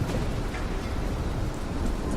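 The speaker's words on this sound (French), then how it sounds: "Vous entendez au loin des éclairs" Heavy rain pours steadily while low thunder rolls beneath it, a dense, continuous storm wash with no voices.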